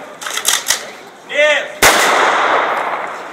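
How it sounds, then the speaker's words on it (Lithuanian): Loud gunfire from a close three-shot ceremonial rifle salute by a hussar battalion at a Lithuanian Independence Day commemoration in Panevėžys: a burst of sharp cracks, then a single heavy shot that echoes and fades into a long rumbling tail. "vidurdienio rimtį sudrebinusi 3 šūvių salvė"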